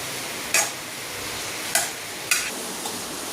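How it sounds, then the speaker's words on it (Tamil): Food being stirred in a pan for idli, with four short scraping strokes spaced about a second apart over a quiet background hiss. "இப்படி கிண்டிட்டே இருக்கணும்."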